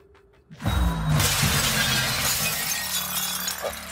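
A glass window shatters in the video game Prey, a loud sudden crash near the start followed by several seconds of tinkling, scattering shards and lingering debris noise, with no voices.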